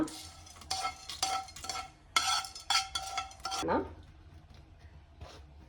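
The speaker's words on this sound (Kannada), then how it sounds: "ಇವಾಗ ಬ್ಯಾಟರ್ನ ಚೆನ್ನಾಗಿ ಮಿಕ್ಸ್ ಮಾಡ್ಕೊಳ್ಳಿ, ಇಲ್ಲಾಂದರೆ ಎಲ್ಲ ಮೇಲೇನೆ ಇರುತ್ತೆ" A spoon stirs edkidbele idli batter mixed with a seasoning tempering, giving several rhythmic scraping, sloshing strokes close by, ending in one long sweep and a couple of faint taps.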